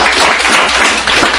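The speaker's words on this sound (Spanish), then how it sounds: "Denle un buen aplauso al Señor" Congregation in a church clapping together, a dense loud patter of many hands sustained briefly without pause.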